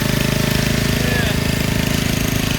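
Lawn mower engines run in a residential neighborhood, a steady loud droning rumble with a rapid pulsing beat that fills the short stretch without a break.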